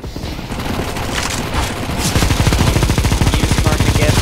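Rapid sustained bursts of Negev machine gun fire in CS:GO, a dense rattle of closely spaced shots that grows louder and steadier after a brief lead-in of scattered gunfire.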